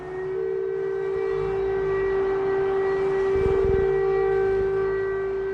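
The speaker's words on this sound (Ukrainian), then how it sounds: "Сирени повітряної тривоги стали частиною повсякденного життя." A steady air raid siren wails alone in Kharkiv, Ukraine, a sustained tone with harmonics holding level throughout, moderately loud and distant-sounding.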